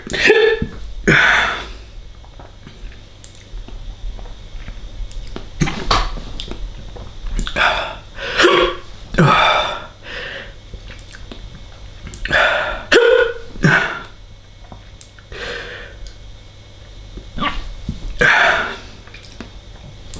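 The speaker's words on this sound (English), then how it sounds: "The hiccups are the worst bit of this." Repeated hiccups after eating a spicy Aji Melocoton pepper, a dozen or so sharp close gulps spaced irregularly a second or two apart, with breaths between.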